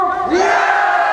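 A crowd at a protest rally in front of a district office shouts together in one loud, sustained collective cry, voices rising and holding close to the microphone.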